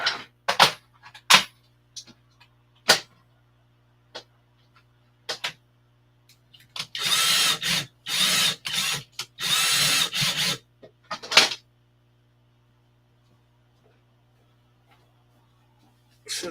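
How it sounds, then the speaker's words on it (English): A power drill whirs in several short bursts, loud and close, separated by clicks and quiet pauses, with no speech. "I get a drill"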